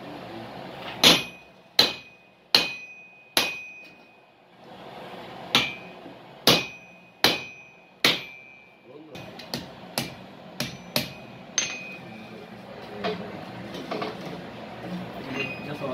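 Metal hammering at a farrier workshop making horseshoes and nails: sharp, ringing hammer blows in a steady rhythm, loud and close, followed by a quicker series of lighter strikes amid workshop noise.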